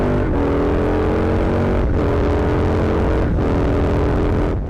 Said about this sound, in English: I back off the throttle and I'm able to change a gear without really touching my clutch